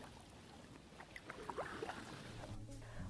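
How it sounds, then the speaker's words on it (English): A kayak paddle doing a reverse stroke on open water, its blade planted behind the hip and pushed forward: quiet splashes and dripping swishes rise mid-clip over a faint wind-and-water backdrop, with no voices. "Once you reach back and plant the paddle behind your hip, unwind your torso, pushing the blade forward to your feet"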